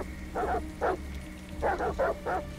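Dog barking in the video game Detroit: Become Human, five short bursts in two groups, moderately close over a steady low ambient hum.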